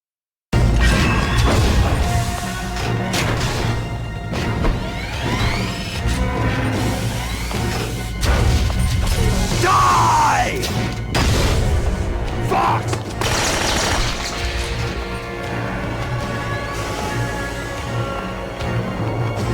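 Stinger missile launches and explosions in Metal Gear Solid: a dense, continuous stretch of roaring blasts, crashes and mechanical clatter, loud and sustained, with a whooshing streak partway through.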